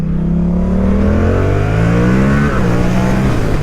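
A Yamaha MT-07 motorcycle pulls hard in second gear, its engine note climbing steadily for about two and a half seconds, then dipping and holding. Loud and close, with no talk.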